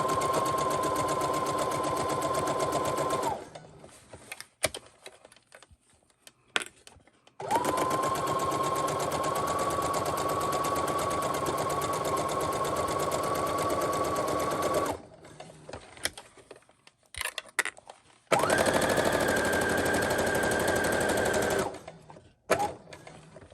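A sewing machine runs in three long, steady bursts while stitching around a 3D cloth face mask, with its motor whirring loudly. Quiet pauses between the runs carry small handling clicks.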